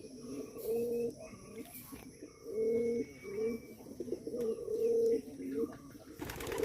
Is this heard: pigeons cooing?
yes